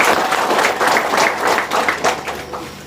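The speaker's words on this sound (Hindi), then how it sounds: "एक बार ताली बजाए दे," Audience applause during an Easter Vigil Mass homily in a church, a dense, steady wash of many hands clapping together, loud and sustained before tapering slightly at the end.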